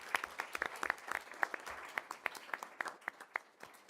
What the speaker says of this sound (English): please one more round of applause for our amazing OMS staff